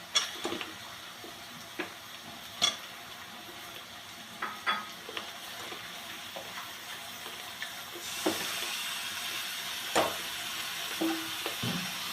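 Chicken pieces frying in masala in a pan, a soft steady sizzle broken by repeated scraping knocks of a spoon stirring, the sizzle swelling louder partway through, close and without talk.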